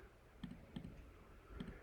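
Calculator keys pressed while entering a trig value, giving three faint, soft clicks, two close together and then one after a short pause, in a quiet room.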